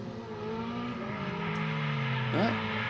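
Two drift cars on a tandem run at Mineral Wells, engines droning and revving together at a distance, the pitch sliding down and then climbing sharply near the end with faint tire noise.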